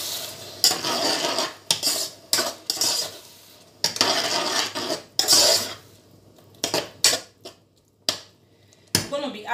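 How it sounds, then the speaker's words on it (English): A utensil stirs tomato in a metal cooking pan with a run of sharp scraping and clinking strokes in an irregular rhythm, close by, with brief quiet gaps between bursts over a faint background sizzle. "Then give it a stir"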